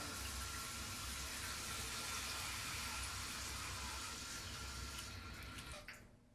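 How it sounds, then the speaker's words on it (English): Water rushes steadily into a newly installed toilet tank after the supply is turned on, a close, continuous hiss and gurgle that tapers off near the end as the fill stops. "Turn on the water."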